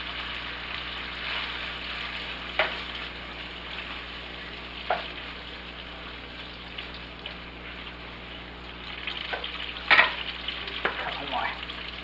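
Garlic and red pepper flakes cooking in a pan for garlic linguine give off a soft, quiet sizzle throughout, with a few light clinks and stirring scrapes scattered over it.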